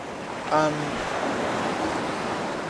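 Water laps and washes continuously in a wetlands area of a video game, a steady broad ambient wash with a brief tonal blip near the start and no voices over it.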